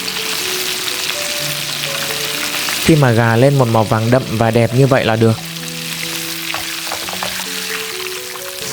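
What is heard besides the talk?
chicken frying in hot oil, second fry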